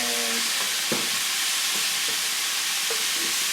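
Meat hot sauce with garlic frying in a greasy pan for a Rochester garbage plate, a constant hiss of sizzling broken by several scraping stirs and soft utensil knocks.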